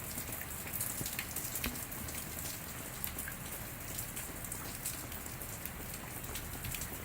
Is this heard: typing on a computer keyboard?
no